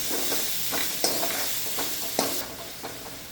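Chopped onion and tomato with salt cook in oil over a low flame for dal khichdi. A continuous close sizzle is broken by regular spatula stirs and scrapes, with two sharper clinks.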